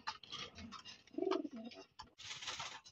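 Racing Fitki pigeons in a home loft give soft, low throaty coos close by, with light wing and shuffling sounds between calls, in a quiet room without talk.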